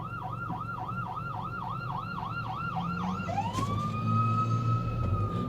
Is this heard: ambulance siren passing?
yes